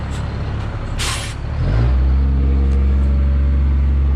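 A heavy truck at a septic system installation site, with an air brake hiss near the start before the engine settles into a loud, steady low rumble that holds close by to the end.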